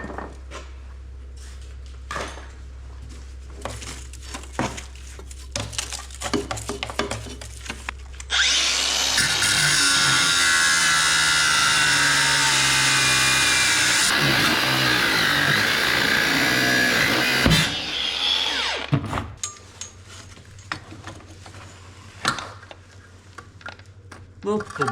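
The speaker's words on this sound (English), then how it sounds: "So I need to bring out the angle grinder and try to cut those away." An angle grinder cuts stuck nuts on a Yanmar B37 excavator, a loud steady high-pitched whine that holds for about ten seconds, set between stretches of clanking and handling noises.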